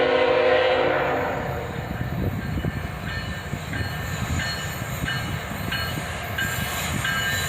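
A Canadian Pacific ET44AH locomotive leads an autorack freight train past at steady speed, a loud continuous rumble of wheels and cars with rhythmic clicks from rail joints, no voices.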